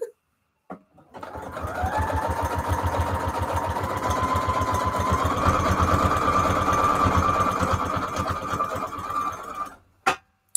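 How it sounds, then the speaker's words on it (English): A sewing machine runs a straight stitch on the spine of an altered junk journal, a steady rapid mechanical chatter running close and loud for about nine seconds before stopping. "I'm going to use a straight stitch now."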